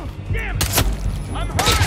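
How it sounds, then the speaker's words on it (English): Enemy gunfire in the Hitman 3 video game: a few sharp broadband bursts crack out at close range over a dense, rumbling game soundscape, with voices talking in between. "He's shooting at us."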